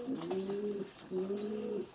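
Pigeons coo in two low, rolling phrases, one after the other, close and steady with nobody talking over them.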